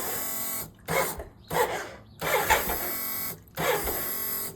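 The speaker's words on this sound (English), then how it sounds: "Fuel pump running," Fuel pump on a 1988 BMW K75s motorcycle that cranks but won't start, giving a steady electric whir that repeats in several short runs of about a second, separated by brief pauses.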